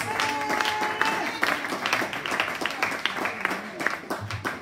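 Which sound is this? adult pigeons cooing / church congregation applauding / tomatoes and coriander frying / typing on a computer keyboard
church congregation applauding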